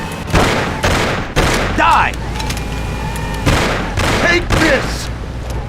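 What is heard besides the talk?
gunfire in a car chase, from video game Mafia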